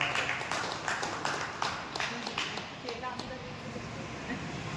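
Guests at a Guru Purnima gathering in a community dharamshala give moderate applause with scattered distinct claps at the start, fading into a softer crowd murmur and voices.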